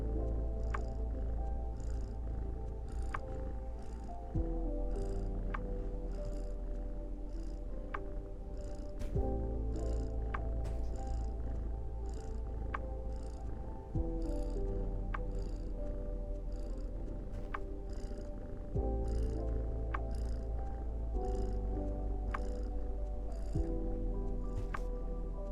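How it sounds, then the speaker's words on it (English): A cat purring inside a video game, a steady low rumbling purr that carries on continuously with faint periodic clicks over it, heard alone with no talking. "That purring noise is purring."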